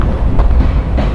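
A train rolls through Winslow, Arizona, close by and loud, with a steady low rumble and rattling wheel noise that fill the whole short moment.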